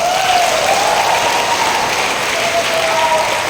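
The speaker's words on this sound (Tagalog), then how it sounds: "pumalakpak ng malakas." A large audience at a general assembly claps loudly and steadily, a dense continuous wash of applause with faint voices under it.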